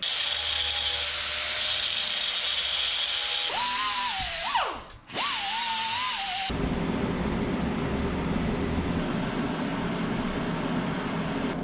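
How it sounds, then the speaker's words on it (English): An angle grinder grinds out a weld spot on the old U-Haul box fitted to a 1977 Datsun 620, a loud continuous whine that dips and revs partway through, then shifts to a steadier rougher grinding tone. "I'm gonna take that angle grinder, grind that out, that little spot right there"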